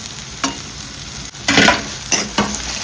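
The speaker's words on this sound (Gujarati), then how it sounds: "લસણ નાખી દીધું છે લસણ ને કાંદા ચમચા વડે હલાવી લઈએ" A spoon stirring garlic and onion frying in a pan, with a low sizzle under three or four distinct scraping strokes, close and without talk.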